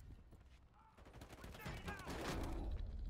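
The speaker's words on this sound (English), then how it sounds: "That's my grenade." Grenade explosion in a video game: a burst of crackling, rumbling impact that swells over a few seconds, fairly faint, with voices talking around it.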